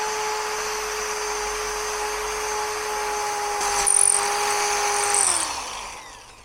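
Power drill boring holes for the lock on a vintage Boler trailer, a steady high motor whine that holds a constant pitch, swells briefly as the bit bites, then winds down as the drill stops.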